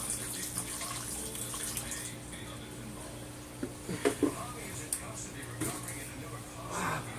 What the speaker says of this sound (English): I'm gonna water it a little.